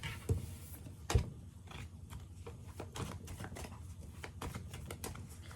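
Tarot cards being shuffled by hand, a soft run of papery riffles and taps with two sharper slaps early on, close and fairly quiet, no speech.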